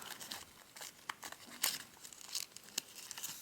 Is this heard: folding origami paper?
yes